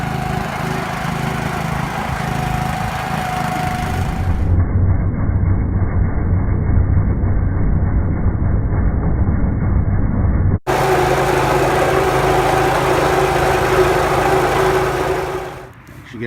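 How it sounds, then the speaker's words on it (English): A Classen sod cutter's small engine runs steadily close by, a continuous buzzing drone that changes in tone partway through and fades away at the very end. "We ran a sod cutter over this."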